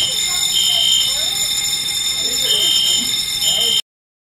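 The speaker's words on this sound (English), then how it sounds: "Fire alarm." A building fire alarm, apparently a test, sounds continuously with a piercing electronic tone and pulsing buzz for several seconds, loud and close, then cuts off abruptly.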